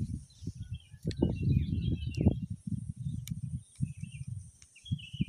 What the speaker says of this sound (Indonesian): Suara-suara burung yang terdengar sangat membawa keasrian tersendiri ini.